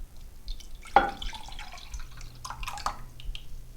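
Liquid pours into a pot on a stove while making hot cocoa: a close splash followed by scattered trickling and dripping, fairly quiet with a low steady hum underneath.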